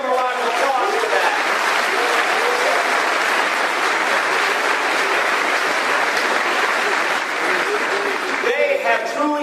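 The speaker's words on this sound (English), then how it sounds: "Let's give them a round of applause for that." A high school graduation audience claps for the class of 2023 in sustained, dense applause that fills the hall for several seconds, with a voice heard near the start and again as it fades.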